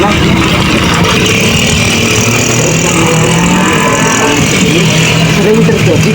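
A motorcycle is moved around a parking lot, its engine noise blending into a dense, loud wash of traffic and crowd sound, with people talking over it throughout.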